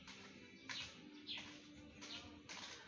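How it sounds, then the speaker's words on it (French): Two birds squabbling in a tree, heard faint and distant as a few brief bursts of calls and scuffling over quiet outdoor background. "Deux oiseaux sont en train de bagarrer dans l'arbre là-bas."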